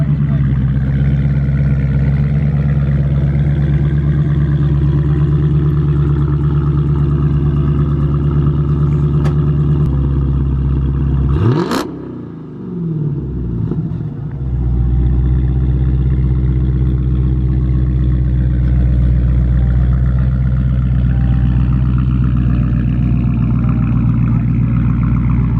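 A Dodge Charger 392 Scat Pack at a car meet gives off a loud, steady, deep engine rumble that holds for most of the stretch, broken by one brief whooshing dip partway through before the drone returns.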